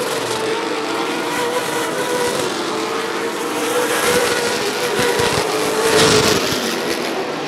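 Late model race cars lapping Rockford Speedway, a continuous loud engine roar from the field that swells as cars pass close, with no talking over it.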